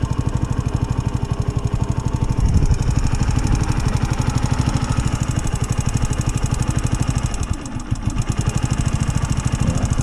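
A Sinnis mini motorcycle's small engine runs warm with a choke that may not be working, giving a loud, steady, rapid putter throughout, with a brief dip near the end.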